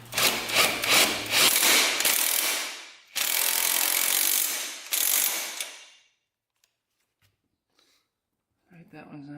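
A ratchet wrench clicks rapidly and loudly on a 14 mm bolt of a big-bore Honda 400ex ATV, three bursts of ratcheting before a pause and a faint sound at the end.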